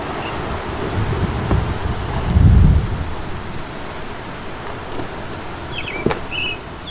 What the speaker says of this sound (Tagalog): Grabe hangin talaga dito.